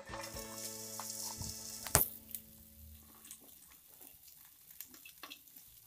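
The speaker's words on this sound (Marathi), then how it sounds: "तेल गरम झाल्यानंतर भेंडी भाजून घ्यायची आहे" Okra frying in hot oil in a pan, a soft steady sizzle with a sharp crackling burst as it goes in, then quieter spitting and faint stirring, close by and with no voices.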